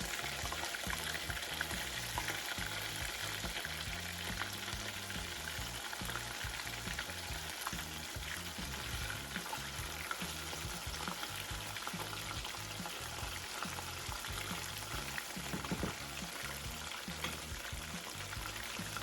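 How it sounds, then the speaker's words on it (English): Chicken nuggets fry in beef tallow with a dense, continuous crackling sizzle that stays steady and close throughout, with no voices over it. "Cook these long enough until they are golden brown, flip them over, let them get golden brown on the other side."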